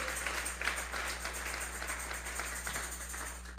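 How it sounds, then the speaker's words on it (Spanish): A church congregation applauding together, a steady dense patter of many hands clapping at moderate distance for the whole stretch, over a low electrical hum. "Vamos a regalarle ofrenda de palmas al Dios de la gloria."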